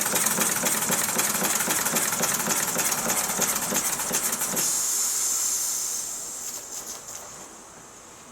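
A Meccano model steam engine runs with a loud, steady hiss of steam and rapid chuffing beats that stop about halfway through, leaving a fading hiss alone.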